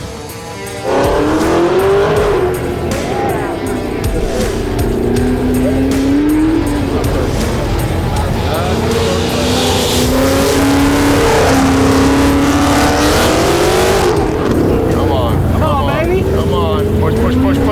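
Race car lapping a track, engine loud and close, rising and falling through gear changes and corners with tire squeal, continuous for the whole lap.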